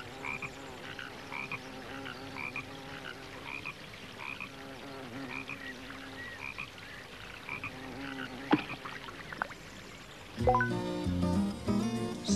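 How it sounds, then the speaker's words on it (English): Frogs croak repeatedly in a pond, a rhythmic chorus of short calls at moderate distance. A sharp click sounds near the end, then a burst of brighter musical tones. "Tom saw a frog in the pond"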